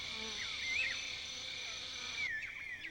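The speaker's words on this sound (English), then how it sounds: "Honeybees fly in too." Honeybees flying to nectar-rich parkia flowers in an African jungle at sunset, a steady insect drone overlaid with continuous high-pitched chirping and whistling, likely birds, in a busy outdoor ambience.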